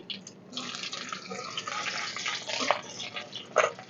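Black cumin and chopped garlic sizzle in hot mustard oil in a pan for a kochur loti dish, a steady close hissing fry with a few sharper pops near the end.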